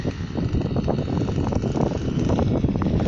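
Outdoor wind at a house-building site buffets the microphone in a constant low rumbling roar, with faint fluttering from flapping banners mixed in, loud and steady throughout with no talking.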